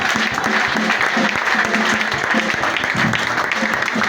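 A church congregation applauds, steady sustained clapping from a crowd with a voice faintly audible underneath.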